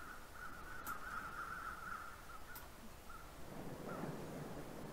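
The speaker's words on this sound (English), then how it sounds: "There's crows flying over there." Crows cawing in the winter survival game The Long Dark, a string of raspy calls from a distance over a quiet outdoor wind ambience, a few more caws near the end.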